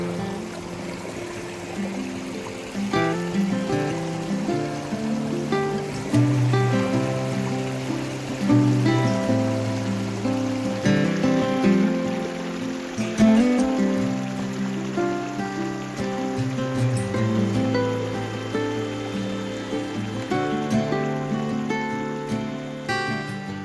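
A creek in the Wichita Mountains burbles and trickles steadily over rocks, a close, continuous babbling flow with no talking.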